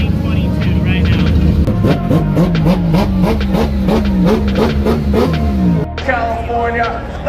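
Drift cars roll out for opening ceremonies at Formula Drift Long Beach 2022, engines droning and revving with a rising, wavering pitch and a loud exhaust note, while an announcer talks over the engines.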